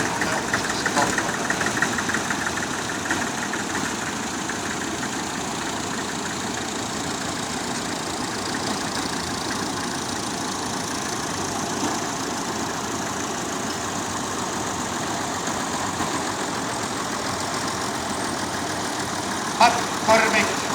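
Vintage tractors idle at a veteran machinery show in Oulainen, a steady continuous engine drone with crowd chatter and voices mixed in, and a brief knock near the end.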